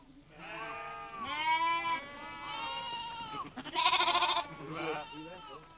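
Sheep on a farm bleat close by in a run of wavering, drawn-out calls, several overlapping with no pause, the loudest near the end.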